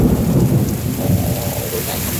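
A thunderstorm rumbles with low, rolling thunder over a steady wash of rain hitting surfaces, loud and close throughout.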